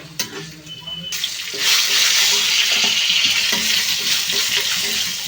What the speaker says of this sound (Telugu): ఇవైతే ఫ్రై అయిపోతున్నాయి కదండి